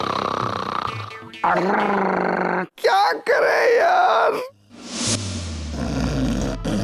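Loud, exaggerated snoring in a Hindi TV sitcom scene: long rasping, growling breaths that rise and cut off in bursts, close up, with a voice speaking around them.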